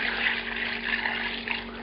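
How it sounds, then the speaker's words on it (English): Warm water pours steadily into a pot of pork ribs with vinegar, making a continuous close rushing splash. "And then I'm filling this up with water that's warm."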